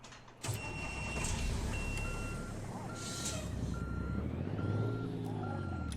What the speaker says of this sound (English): We'll hop back in the truck and start her up.